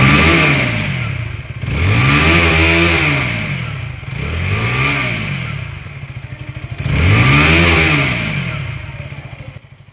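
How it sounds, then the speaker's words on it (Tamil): A 2025 KTM Duke 160 motorcycle's exhaust revving at standstill, four loud swelling blips that rise and fall over a steady idle rumble, recorded close with no voices. "இந்த வண்டியோட எக்ஸாஸ்ட் நோட் எப்படி இருக்குதுங்கிறத வந்து"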